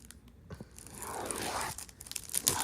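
Cardboard box being cut open for an unboxing, a near, continuous tearing and scraping rasp building through the middle with crinkly bursts toward the end, no talking.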